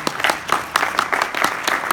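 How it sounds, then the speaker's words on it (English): Audience applause for a guest at a tech conference talk, a steady wash of many hands clapping close and loud, with dense overlapping claps throughout. "Please give him a round of applause."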